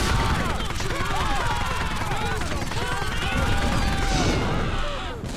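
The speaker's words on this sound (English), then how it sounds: "Expect a lot of more gunfire than usual," Rapid bursts of gunfire crackle and pop continuously in the video game Postal Redux, mixed with booming explosions and chaotic noise, loud and busy throughout.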